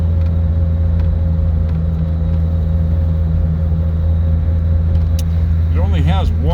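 A 1956 Ford Anglia 100E cruises in second gear with a loud, steady engine drone and low rumble from inside the cabin, joined by a brief whirring whine near the end.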